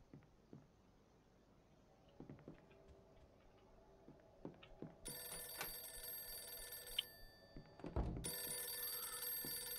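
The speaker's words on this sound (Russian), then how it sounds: "Ага, телефон звонит." Telephone ringing in the video game Mafia II, a bright electric bell trilling in two long bursts after soft ticking and small clicks, no speech.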